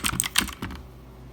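Quick bursts of typing on a Redragon K552 Kumara mechanical keyboard, loud clacky keystrokes in a fast cluster that stops abruptly, leaving quiet room tone.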